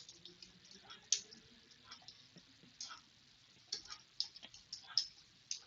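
Light, quick clicks of computer keys being typed in short irregular bursts, faint and close, with a soft background hum and no speech.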